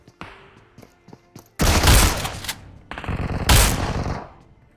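In the mobile game BGMI, a PP-Bizon submachine gun fires close and loud in two rapid bursts, after softer scattered in-game thumps and clicks.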